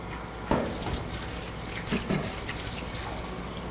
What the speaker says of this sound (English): So I'm just going to soak these in cold water.